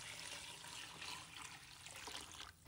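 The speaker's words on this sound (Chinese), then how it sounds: "将排骨放入盆中，倒入温水" Warm water poured into a bowl of pork ribs, a continuous close splashing pour that carries on throughout and slackens slightly at the end, no talking.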